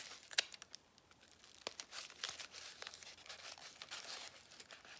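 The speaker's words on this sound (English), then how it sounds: "I'm going to wrap the masking tape around it." Masking tape is wrapped around crumpled tin foil, giving close, quiet crinkling and crackling with scattered sharp tape-peeling ticks over several seconds, no voices.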